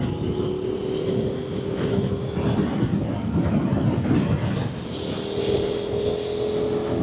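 A rebuilt 2021 KTM 1290 Super Adventure R on knobbly tyres cruising a scenic road, its engine a steady low drone blended with constant wind rush, heard close and continuous.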